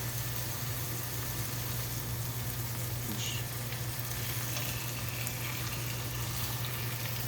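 Chicken breast frying in a pan, a steady broadband sizzle that holds loud and even throughout with no talking.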